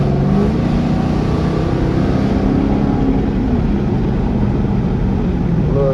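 A 2016 Dodge Challenger R/T with a cammed 5.7 V8 on a stage 2 comp cam and a straight-pipe exhaust pulls hard with a loud, steady, rumbling drone heard from inside the car.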